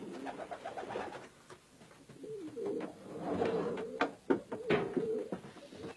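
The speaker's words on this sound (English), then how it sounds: "Can we have a look at the young pigeon?" Young racing pigeons cooing repeatedly in a loft, soft throaty calls rising and falling close by, with occasional knocks and shuffling of birds moving about.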